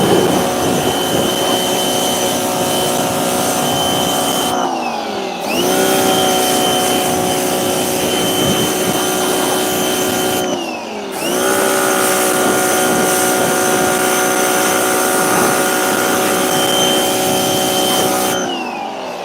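A cheap pressure washer runs loud and close while cleaning a Smart ForTwo car, its motor droning steadily and cutting out briefly twice before restarting, with no talking.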